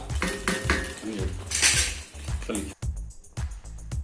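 A metal spoon clinks and scrapes repeatedly against a pot of paneer gravy in uneven strokes, close by, with a voice speaking softly underneath.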